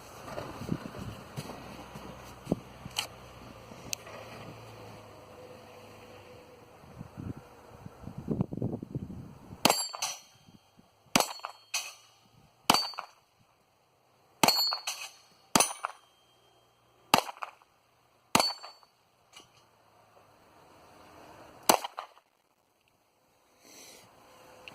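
Sharp pistol shots from a Sig Sauer P938 at an outdoor range, about a dozen loud cracks in uneven succession after a quieter stretch of handling noise, with faint metallic pings from struck steel plates.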